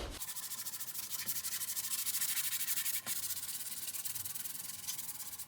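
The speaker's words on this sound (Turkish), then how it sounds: "Niye zımpara yapıyorum?" Steady, continuous scratchy rubbing of 120-grit sandpaper across a surface in quick back-and-forth strokes, close and loud, with no talking.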